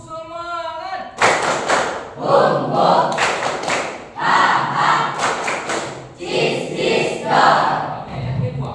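A class claps the Indonesian 'tepuk semangat' clap chant in rhythmic bursts mixed with loud chanted shouting, several thumping sequences repeating close by.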